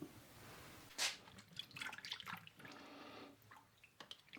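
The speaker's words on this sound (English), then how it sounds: "I'm going to fill the curing box with fresh clean water and rinse any remaining cure off the meat" Fresh clean water splashes and drips in a curing box as leftover cure is rinsed off a venison loin being made into bacon, with soft, quiet trickles and a brief sharper splash.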